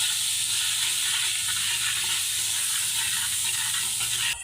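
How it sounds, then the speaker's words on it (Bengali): Spices with chili powder and salt fry in oil while being stirred, giving a continuous, close, fairly loud sizzle that holds steady until it cuts off at the end. "এখন মশলাগুলো ভালো মতো নেড়ে নিব এবং কষাই নিব"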